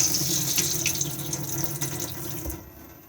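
Water runs from the sink tap inside a 2021 Elddis Xplore 422 SE caravan, a steady close splashing stream for about two and a half seconds that then cuts off abruptly.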